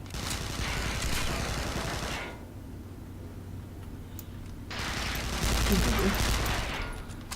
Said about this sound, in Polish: Ktoś strzela do ciebie